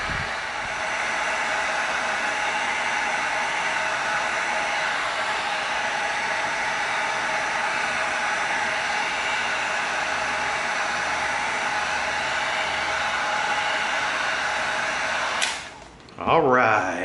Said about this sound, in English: Now, we're going to come in with our heat gun and we're going to heat this up